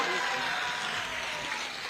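At a political gathering, an audience claps for the tribal minister Chakma with a steady, dense wash of applause that sounds somewhat distant and continues evenly.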